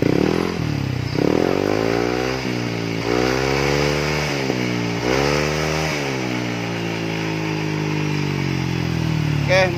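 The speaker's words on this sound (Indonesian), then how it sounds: "sekarang kita pasang di motor ya, tes dulu nih suaranya seperti apa" A motorcycle fitted with an SKR racing exhaust revs repeatedly up close, the loud engine note rising and falling in several sharp throttle blips over a steady idle, with rain and a voice faint behind.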